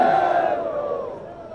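A large crowd at a Pakistan Peoples Party rally in Gilgit-Baltistan chants a political slogan in loud massed voices that fade gradually over a second and a half.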